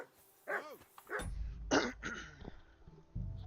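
A dog in the video game Kingdom Come: Deliverance 2 gives a few sharp, close barks and yips over about three seconds, with a whimpering, cough-like sound between them and no talk.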